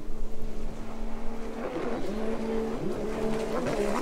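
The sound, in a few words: racing watercraft engine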